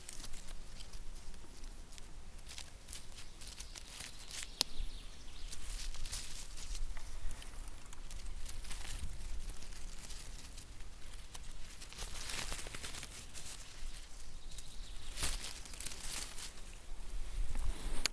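Light rain patters steadily through a Swedish summer forest full of ferns, a soft continuous wash of fine drops with occasional crisp crackles, close and gentle, with no voices.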